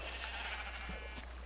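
Sheep in a Minecraft sheep farm bleat in a few brief overlapping calls over a steady low game hum, moderately close, with no talking.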